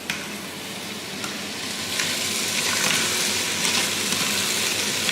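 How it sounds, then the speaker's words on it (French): Potatoes and onions sauté in a pan in a restaurant kitchen in Alsace, giving a dense, steady hiss and crackle of frying that swells slightly partway through, close and continuous with no voices. "j'ai bien fait revenir mes patates avec les oignons"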